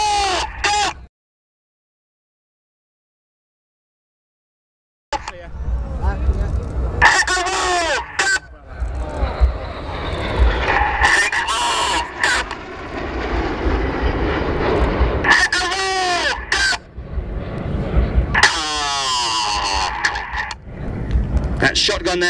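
Red Arrows display jets roar through the shotgun manoeuvre at an airshow, engine noise rising and falling across a long pass, with a silent gap early on and a commentator talking over much of it.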